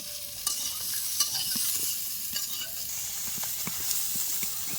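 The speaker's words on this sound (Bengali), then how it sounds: "ফুলকপিটা ভালো করে ভেজে নেব।" Cauliflower frying in a pan with a pinch of salt, giving a loud, dense hiss of oil with scattered pops and repeated scraping stir strokes throughout.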